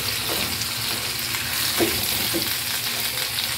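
Garlic sizzles steadily in a hot pan for Filipino chicken adobo, a continuous close frying hiss with a couple of soft stirring scrapes.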